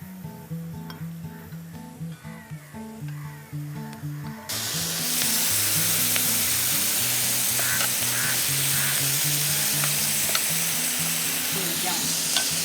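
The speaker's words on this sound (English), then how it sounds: "And for the sizzle," Food with coriander and mustard seeds bursts into a loud, steady sizzle as it hits a hot pan, after a stretch of quieter stirring and background music.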